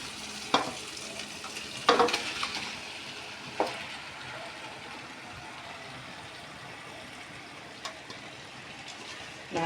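Marinated chicken frying in tomato masala, a steady broadband sizzle holding throughout with a few sharp clinks of a spoon or spatula against the pan; no one speaks.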